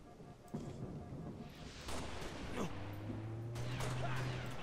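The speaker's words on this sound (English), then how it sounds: "Lay down the covering fire." Covering fire in the Halo: Reach firefight on the bridge, a burst of gunshots and heavy booms with a sustained whine, mid-distance and fairly loud amid battle noise.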